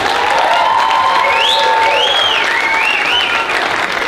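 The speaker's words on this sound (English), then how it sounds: "So, another round of applause for the couple." A comedy show audience at the Wildey Theatre applauds loudly and steadily, a dense wash of clapping with some whoops rising above it throughout.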